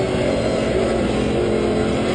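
A Cadillac race car at Laguna Seca roars steadily at close range under hard braking into turn five, a loud, dense engine drone held without break and without voices.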